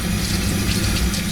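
Water rushes steadily from a tap, filling a bowl to cover prepared vegetables for a Yorkshire beef and chicken stew, a loud continuous pour with no pauses.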